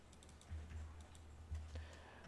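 A few faint, soft clicks of typing on a computer keyboard during Photoshop web design work, sparse and quiet against a low background hum.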